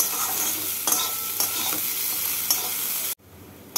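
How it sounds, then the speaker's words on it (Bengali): Sliced bitter gourd (karela) frying in oil in a pan gives a steady, close sizzle, broken by a few soft stirring scrapes before it suddenly cuts quiet. "করলাগুলোকে লাল করে ভেজে তুলে রাখবো"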